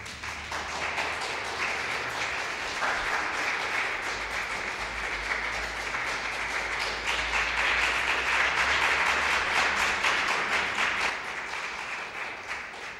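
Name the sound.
audience applause welcoming a speaker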